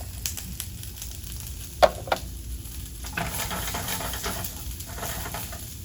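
Chopped red onion and green pepper sizzling in a hot pan give a continuous, even hiss, with a couple of sharp utensil knocks early on and soft stirring after.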